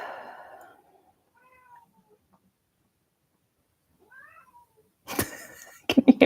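A house cat meows several times, a faint cry at the start and then quiet, followed by louder, closer meows and yowls bunched near the end.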